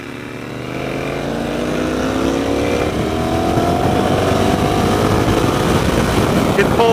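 A 2016 Motus MST motorcycle engine drones steadily while riding, rising slightly in pitch as it strains to rev in gear, with wind noise close and continuous throughout.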